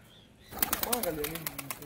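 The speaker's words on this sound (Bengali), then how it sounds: "এগুলো বাড়ির পোষা পায়রা" Domestic pet pigeons flap their wings in a quick flurry of fluttering beats with a soft coo mixed in, close and moderately loud after a quiet start.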